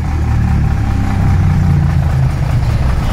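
A bus engine idles at the APSRTC bus stand in Tenali market, a steady low rumble that holds loud and near throughout with no talk over it.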